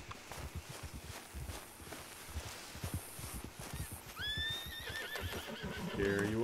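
In Red Dead Redemption 2, hooves clop steadily on the ground, then a horse lets out a loud, drawn-out whinny near the end.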